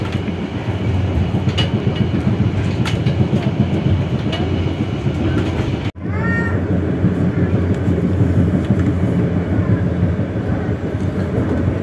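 Interior of the KA Banyubiru executive-class train running from Semarang to Solo: a steady, loud low rumble of wheels and carriage with faint rhythmic clicks and a brief sharp jolt midway.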